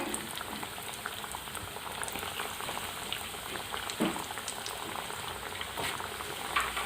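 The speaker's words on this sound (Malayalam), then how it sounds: "ഇത് എണ്ണ നന്നായിട്ട് തിളച്ച് വരുന്നുണ്ട്. നമുക്ക് ഓരോന്നായിട്ട് ഇട്ട് കൊടുക്കാം." Beef cutlets frying in bubbling hot oil give a dense, even crackle and hiss that stays steady and moderately close, with faint pops rising now and then.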